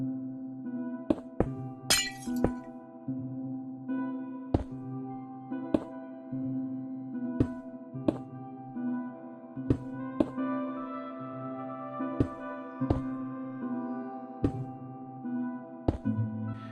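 Glass panes being placed in the video game Minecraft, a series of sharp isolated clinks at irregular intervals, roughly a dozen over the span, close and crisp over a steady background music bed.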